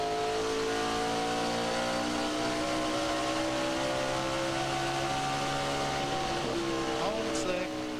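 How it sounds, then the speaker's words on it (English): NASCAR Cup stock car engine at Rockingham in 1999 revving and holding a sustained, loud, multi-tone roar with slight pitch shifts and a rise near the end, heard over race broadcast ambience. "It's about as clear as you can hear a motor run."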